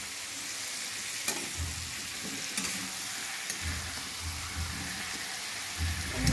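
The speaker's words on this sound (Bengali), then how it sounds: "একটা প্যানে আমি চিংড়িগুলো সাইড দিয়ে ফ্রাই করে নিচ্ছিলাম, আর সাইডে আমি মিষ্টি কুমড়গুলো ফ্রাই করে নিচ্ছিলাম" Shrimp and pieces of sweet pumpkin frying in a pan give a steady close sizzle, broken by soft stirring scrapes and a louder flare at the end.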